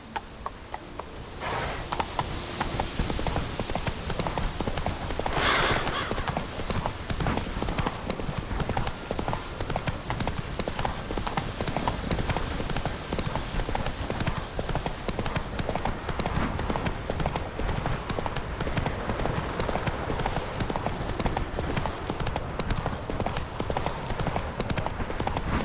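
Horse hooves clip-clop in a steady galloping rhythm as Roach runs in The Witcher 3, continuous and fairly close, with faint ambient game sounds underneath.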